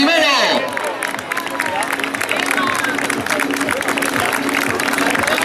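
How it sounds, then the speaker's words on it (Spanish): Crowd applauding and cheering a runner at the finish arch of a youth mile race in Gijón, a dense steady clatter of clapping mixed with crowd babble throughout, with a whistle-like sweep near the start. "Fuerte el aplauso para ese corredor"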